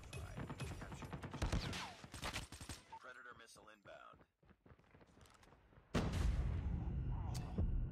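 A hunter killer drone strike in the Call of Duty Mobile video game, heard as bursts of heavy gunfire and booming blasts, with a loud rumbling impact near the end and a voice reacting over the game.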